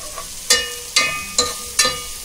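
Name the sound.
onions frying with salt in a pan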